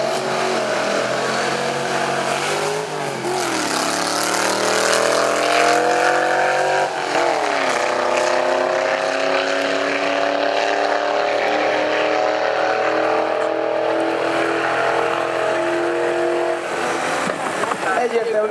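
At the Rába Ring drag event, a car accelerates hard through rising engine pitch sweeps that drop at each gear change, a continuous loud roar with voices talking underneath.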